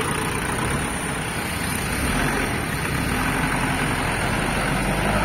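A Shibaura D26F tractor engine idles with a steady, smooth low rumble, loud and close, constant throughout with a broad noisy wash over it.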